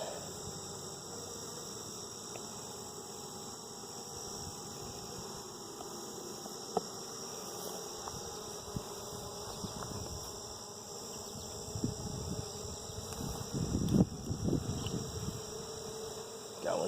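Honeybees buzz around a young hive opened for inspection, a steady close swarm drone running throughout with occasional louder passes of individual bees near the end.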